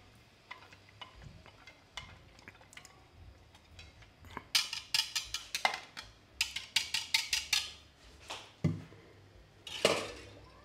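A spoon stirring a mousta must mixture in a pot, giving sparse light taps at first and then a quick run of bright metallic clinks and scrapes against the pot, close and clear.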